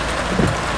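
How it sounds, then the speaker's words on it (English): Heavy rain pours down during a Florida thunderstorm, a loud, steady wash of hiss that fills the whole moment. "it's like the rain is extremely heavy"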